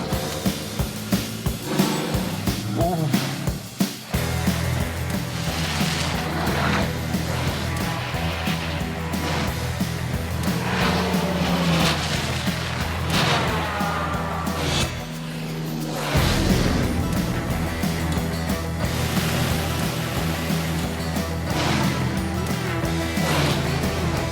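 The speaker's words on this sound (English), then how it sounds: "Just trying to keep up in a chase car." A car driving fast, heard from a chase car, with a loud sustained engine roar and rushing road and wind noise throughout, shifting in pitch as it speeds along, with no talking.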